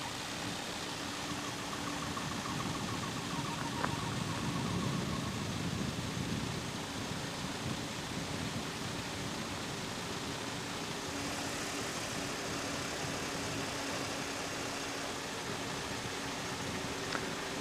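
Magni M16 gyrocopter engine running steadily during rotor pre-rotation, a continuous droning hum with broadband wind-like rush, close and constant throughout with no talk.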